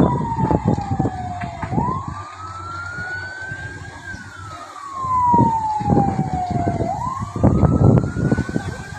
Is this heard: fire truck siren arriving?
yes